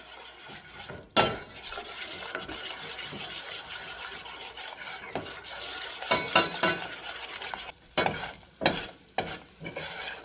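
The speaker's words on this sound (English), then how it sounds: "we want to add 1/4 cup of all-purpose flour. And the recipe said stir it for 1 to 2 minutes" A spoon scraping and stirring flour into melted butter in a pot, thick mixture, with continuous rubbing and sizzling, punctuated by sharper clanks against the pan.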